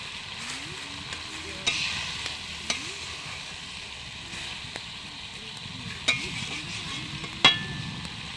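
Fish curry with onion paste simmers and bubbles in a pan with a soft, steady sizzle, broken by a few sharp spoon knocks and stirs close by.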